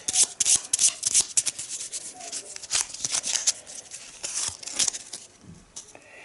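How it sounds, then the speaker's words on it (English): Arkham Horror game cards are riffle-shuffled close up, giving bursts of crisp, rapid fluttering and rubbing that repeat several times in quick succession. "we're gonna give it a shuffle."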